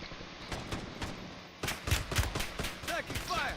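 Video game gunfire crackles in rapid bursts: several sharp shots and short volleys follow one another closely, loud and near, with brief synthetic effect tones near the end.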